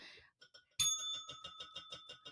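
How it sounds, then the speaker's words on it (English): A small bell chimes once clearly, followed by a rapid series of lighter ringing strikes that continue steadily, close by and fairly quiet in an otherwise still room. "I like this little bell here."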